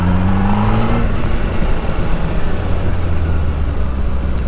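A motorcycle engine drones steadily up close as the clutch is pulled and released during a gear shift, the pitch dropping briefly near the start before the engine settles into a continuous rumble; no speech.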